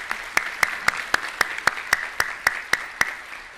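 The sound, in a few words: audience applause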